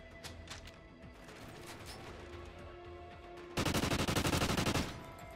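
Gunfire punched through a wall in Call of Duty Ghosts, a dense rapid burst of shots arriving loud and close after several seconds of quieter in-game rumble and clatter.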